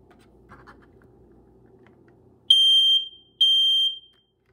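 During a test after battery installation, a smoke detector gives two loud, piercing high beeps, each about a second long, following quiet scratching and handling sounds.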